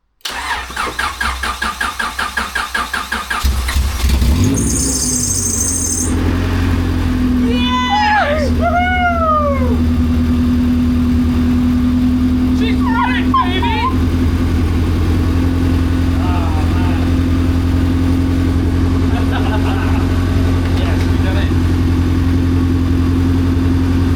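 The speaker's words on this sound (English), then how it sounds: "As you may have guessed, the exhaust is not attached, hence the racket." A Honda Civic with a swapped B18/B20 VTEC engine and no exhaust fitted cranks briefly, catches and settles into a loud, raw, rattling idle that carries on steadily, with voices speaking over it.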